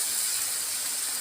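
Water splashed into a hot pan of potato and papaya sets off a steady, broad steam hiss that holds evenly for the whole moment, close and moderately loud.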